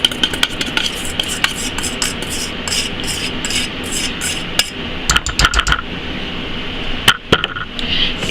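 Salt and bentonite clay get mixed into a bath salt blend, giving a dense run of gritty scraping and rattling strokes with sharp clicks of utensil against container, close and fairly loud.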